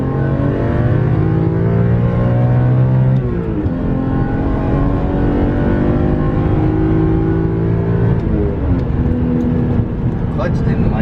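BMW E46 M3 engine revving on a canyon drive, loud in-car roar climbing in pitch through the gears with a couple of shifts where the tone drops and rises again.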